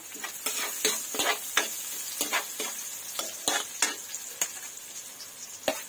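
Chorizo sizzles in a hot pan for a Filipino pancit dish, with a steady frying hiss punctuated by repeated scraping and clattering strokes of a spatula as it is stirred.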